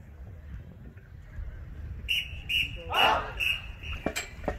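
Four sharp whistle blasts from a band director at a morning marching band camp rehearsal ring out in quick succession, loud and piercing above a low murmur of outdoor background noise.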